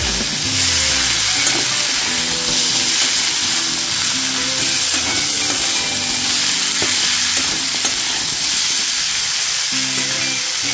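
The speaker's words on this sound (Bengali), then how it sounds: "দিয়ে ভালো করে আবার এটা ফ্রাই করে নিতে হবে।" Pumpkin pieces salted and frying in a pan, giving a steady, loud sizzle with intermittent scraping and stirring clatter throughout, close up and without talk.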